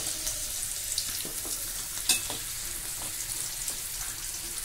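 Curry leaves fry in hot oil for thuvara sambar, giving a continuous close sizzle with a few sharper crackles and pops, steady and moderately quiet, with no speech.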